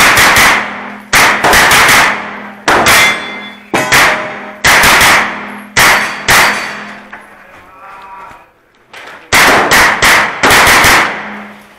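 Sharp, loud gunshots ring out at a zombie-themed shooting match, fired in quick uneven bursts and clusters with a short lull near the end before another rapid volley.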